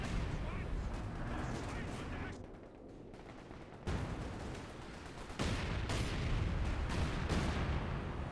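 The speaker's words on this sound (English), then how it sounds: "Oh, artillery being called on in. Good hits." An artillery barrage rains down in Company of Heroes 2, with repeated heavy booms and rumbling impacts in loud waves over a continuous battle din, and a commentator talking throughout.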